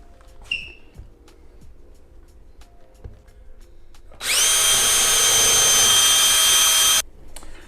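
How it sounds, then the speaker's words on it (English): A power drill bores a hole into a wall for a TV wall mount, a loud steady whine running about three seconds before cutting off, after quieter handling knocks and a brief rattle. "we're going to go ahead and drill on this side as well."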